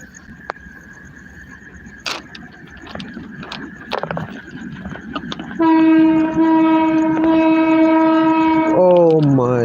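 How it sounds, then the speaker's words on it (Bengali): A Rajshahi train arrives and gives a long, loud, sustained blast on its horn over the rumble of the approaching cars, after earlier scattered clanks and noise. "আমাদের মাঝে রাজশাহীর ট্রেন এসে হাজির হচ্ছে। সে আসার আগে থেকেই যে হর্ন দিচ্ছে।"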